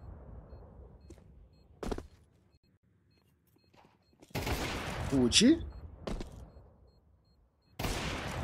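Bursts of Counter-Strike gunfire on the Vertigo map erupt in short clusters during a competitive match, separated by quiet stretches, with a single voice briefly speaking partway through.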